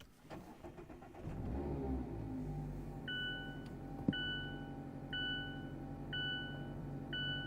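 A 2-liter four-cylinder Mazda MX-5 Miata cranks and fires up, its engine settling into a steady idle, with a sharp click midway and a repeating chime beeping at regular intervals.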